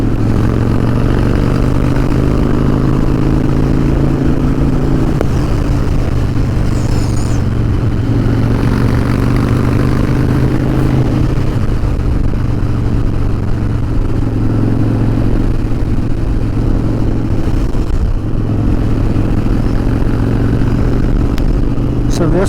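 A 2012 Harley-Davidson Dyna Wide Glide motorcycle out on a ride, its loud, steady low engine drone running throughout beneath someone talking over it.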